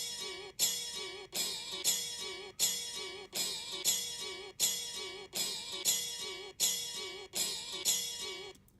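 A chopped loop cut from a song, built from about eleven short, even stabs that each swell in and then drop off, repeating steadily and loud with no talking.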